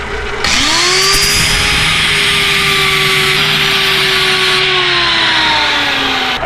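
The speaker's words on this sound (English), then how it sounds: "we're going to use a redneck tool post grinder" An improvised tool post grinder on a metal lathe in a shop, grinding metal that is too hard to cut: a loud continuous high whine with a steady harsh hiss, starting abruptly and running without pause.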